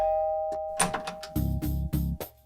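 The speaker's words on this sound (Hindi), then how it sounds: "चल के घंटी बजाते हैं।" An apartment doorbell chimes with a steady tone, followed by a few short clicks and thumps nearby, fairly quiet overall.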